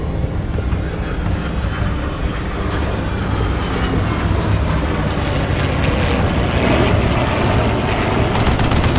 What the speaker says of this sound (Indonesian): Dia melihat pesawat Dakota mendekat.